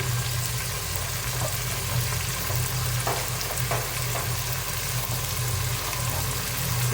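Ginger and garlic paste sizzling in a pan as a base for an egg, potato and lentil dal, a dense continuous frying hiss with a low steady hum under it and a few faint stirring clicks, alone.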